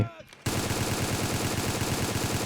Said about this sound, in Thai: เห็นป่ะเมื่อกี้มันยิงสวนเราด้วยเว้ย